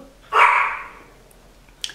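A single dog bark sounds at moderate distance, a sharp yelp-like bark that trails off, followed by a faint short yip near the end, over quiet room noise with no talking.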